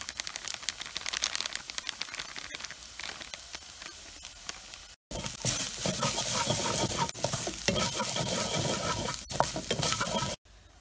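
Chicken masala powder sizzles in a hot pan as it is stirred and fried for spicy chicken ada, a steady close frying hiss with scraping strokes that turns much louder partway through, then drops off abruptly near the end.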